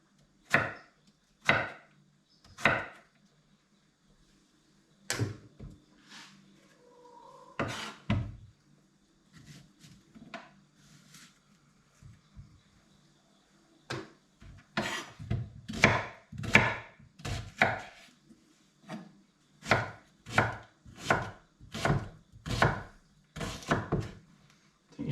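Knife chopping ingredients for chutney on a wooden board, sharp thunking strokes in sparse bursts that settle into a steady rapid run toward the end, close by with no talking.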